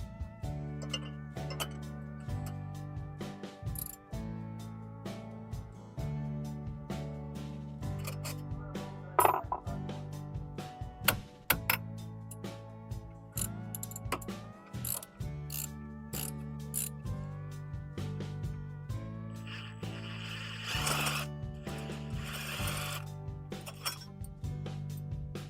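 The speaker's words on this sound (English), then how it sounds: "So we're going to start by removing this bolt, and then this bolt, and this bracket's going to come off" Quiet ratcheting and metallic clinks come from removing bolts and a bracket to take off the alternator of a Subaru SVX, in repeated short clicking runs over a steady low background hum.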